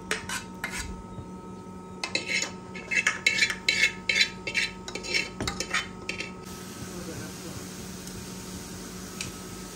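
A spoon scrapes and clinks against a pot while lentil batter for pitha is stirred, a run of close, rhythmic metallic knocks that fades to a faint background hum.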